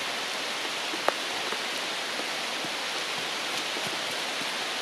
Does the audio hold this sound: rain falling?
yes